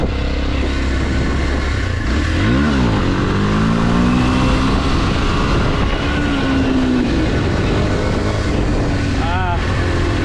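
A Kawasaki KLX230 dirt bike engine drones loudly in second gear while riding up a bridge, its pitch rising and falling with throttle amid heavy wind rush, steady and close throughout.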